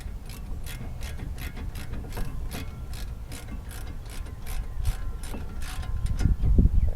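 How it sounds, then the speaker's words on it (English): A ratchet with a 15 mm socket clicks rapidly and steadily as it tightens brake bolts on a Chevy Cruze during a brake replacement, close up with a faint mechanical rattle building near the end and no speech. "grab my 15 millimeter socket. I'll tighten them up."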